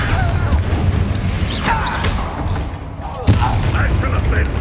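Confringo blasting-spell explosions in the video game Hogwarts Legacy, loud booming bursts over constant combat noise with a sharp blast near the end.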